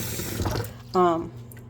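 Well water, carrying some rust, runs briefly from a tap into a cooking pot, a short splashing pour of about a third of a second following quieter background noise.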